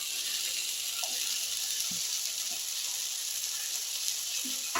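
Cut tender drumstick stalks are added to a tomato and spice masala in a pan, giving a steady quiet sizzle with a few faint clinks, no talk.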